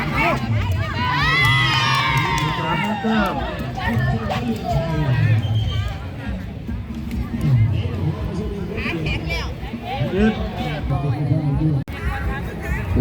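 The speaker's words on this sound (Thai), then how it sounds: "โอ้ กองเชียร์หลายคับพี่น้อง" A lively crowd at a community volleyball match shouts and cheers throughout, with children's excited yells and general hubbub rising and falling in a continuous, loud wash of voices.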